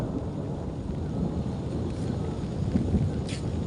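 Thunder rumbles through a storm over a hill village near Gangolihat in Pithoragarh, Uttarakhand: a steady, heavy low roar that holds for several seconds, with rain and wind hiss layered on top.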